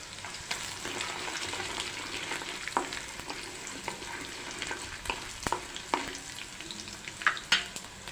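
Green chillies and peanuts frying in a pan for rava upma, a constant crackling sizzle with a spoon scraping and tapping now and then, growing busier toward the end.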